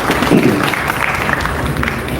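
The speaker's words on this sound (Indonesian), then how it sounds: "Boleh kasih tepuk tangan buat Akademi Relawan." A crowd claps for a volunteer academy during a national lecture at a festival, a brief burst of applause with a murmuring audience beneath it.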